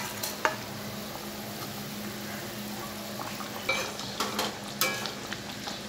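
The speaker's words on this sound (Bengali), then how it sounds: "সেই ঝোলটা ফুটে গেছে, এবার আমি মাছটা এতে দিয়ে দিচ্ছি।" Boal fish going into a boiling spice gravy: a low, steady bubbling simmer, then a few clinks of utensils and pan with soft splashes near the end, no voices.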